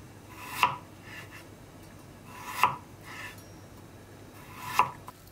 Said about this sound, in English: First, she cut up some radish.